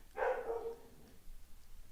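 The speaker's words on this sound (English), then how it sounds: "What are my dogs barking about?" A dog outside lets out a single muffled bark, somewhat distant, which trails off into quiet background.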